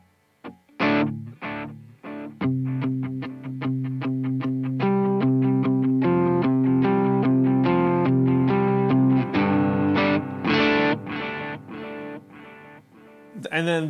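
Electric guitar through a dotted eighth-note delay pedal on a worship pedalboard, a fast run of picked notes whose echoes cascade in a galloping rhythm, steady and fairly loud throughout with no voice.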